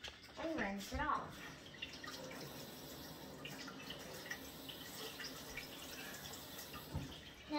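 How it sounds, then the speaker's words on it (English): A spoon being rinsed under a running kitchen tap, water streaming and splashing steadily at moderate level, with a few brighter clinks and drips near the start. "Grab your jelly spoon and rinse it off."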